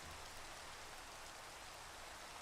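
Steady, even rain hiss in Minecraft, a dense uninterrupted patter of falling drops filling the whole stretch with no talking.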